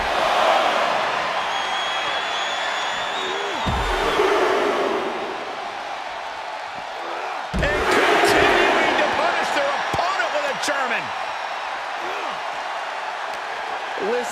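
A WWE wrestling arena crowd roars in a loud, sustained wash of cheering under an excited commentator's voice, with swells and sharp bursts midway through.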